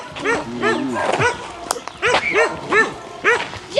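Dog barks and yips outdoors, several sharp bursts in quick succession, loud and close, mixed with people talking nearby.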